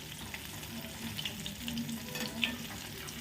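Chilli bhaji, fritters of pre-boiled green chillies, frying in hot oil and being gently stirred, a close, continuous crackling sizzle with small pops and occasional scraping of the utensil, no voices.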